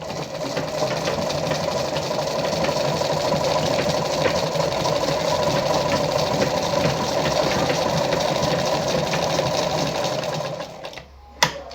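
A Lada model 237-1 sewing machine stitches at a 2.5 stitch length with a continuous close, loud motorised hum and rapid needle chatter, running steadily before a brief stop and a small clunk at the end.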